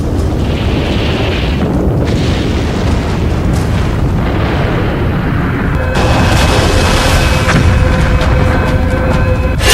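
A nuclear bomb explosion shown on Russian state television makes a loud, deep, rumbling roar that rolls on continuously and grows into a heavier blast toward the end.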